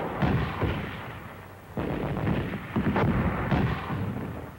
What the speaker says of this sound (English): They covered their advance with mortar fire.